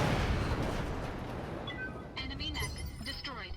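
An enemy mech is destroyed in the game Battletech with a heavy boom that fades into a rumbling tail, followed by lighter mechanical effects while a voice speaks.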